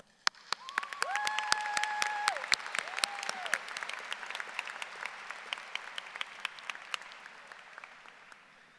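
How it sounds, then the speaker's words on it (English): Audience applause at a high school class of 2025 graduation ceremony, a broad swell of many hands clapping with sharp individual claps standing out, briefly joined by whoops, then gradually thinning. "Let's give them another round of applause as they head back to their seats."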